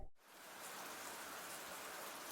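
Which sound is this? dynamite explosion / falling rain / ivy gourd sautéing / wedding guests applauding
falling rain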